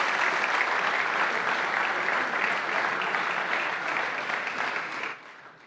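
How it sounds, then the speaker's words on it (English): Audience applause at a FIBA Champions League basketball awards ceremony, a dense, even wash of clapping from a large crowd that holds steady and then drops away sharply near the end. "So one round of applause."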